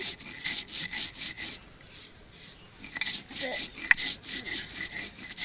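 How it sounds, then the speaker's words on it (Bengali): Spice paste for yogurt lassi and lemon sherbet is ground by hand on a stone grinding slab. Close, rhythmic back-and-forth scraping strokes repeat steadily, with a sharp tap near the middle. "শিলে নামিয়ে ফেলবো মশলাটা আমি বেটে নিচ্ছি"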